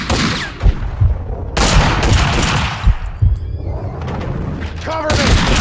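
Gunfire in the Max Payne 2 video game, a series of loud close shots and booming impacts in irregular bursts, with shouting voices between the volleys.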